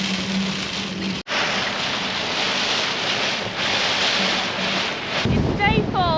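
Constant loud wind on a coastal cliff buffets and roars across the microphone, with a steady rushing noise and a voice briefly audible near the end.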